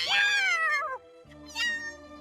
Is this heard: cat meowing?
yes